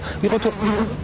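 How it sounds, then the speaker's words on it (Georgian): Flies buzzing loudly and close by at an outdoor border post, a continuous droning hum that swells and wavers in pitch over about a second, with no clear speech. "აი ყველგან ბუზი მაზის"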